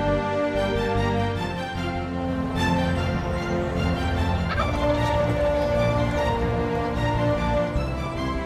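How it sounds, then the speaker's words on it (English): A wild turkey gobbles up a hill from roughly a hundred yards out, its rattling gobble coming in repeated bursts over a continuous, fairly loud outdoor background. "heard gobbling up the hill"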